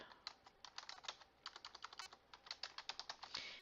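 Someone types a chat message on a computer keyboard, a close, quiet run of rapid key clicks in uneven bursts with short pauses, with no talking.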